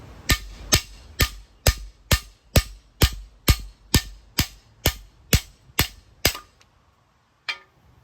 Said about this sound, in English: I'm not using any giant hammer either. It's just a real small, regular hammer.